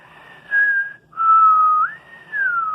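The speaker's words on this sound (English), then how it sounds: "He did a little" A person whistles a high-pitched, calming tune in two sustained phrases with a short gap between, close and clear over a quiet background, with a third phrase starting at the end.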